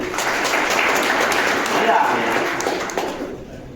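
An audience at a job placement session claps together, a steady dense wash of applause that holds at full level for most of the stretch and then tapers off near the end.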